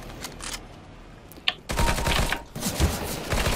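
A P90 submachine gun fires in CS:GO, with rapid close bursts of automatic gunfire following a brief sharp crack, set against steady game background noise.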